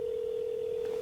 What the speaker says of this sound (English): Yep, it's ringing.